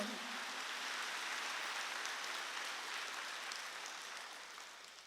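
A church congregation at a Wednesday worship service breaks into sustained applause, a dense, even clapping that fills the room for several seconds and slowly tapers near the end, with no voices over it.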